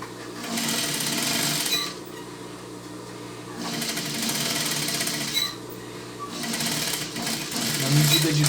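A sewing machine stitches a side seam in fabric in three loud running bursts, separated by short pauses, close by with a faint mechanical hum between runs.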